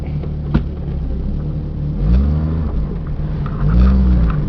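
A 1997 Jeep Cherokee Laredo 4x4 with a six-cylinder engine rounding a corner, its low engine hum rising and falling in two swells as it accelerates, heard from inside the cabin.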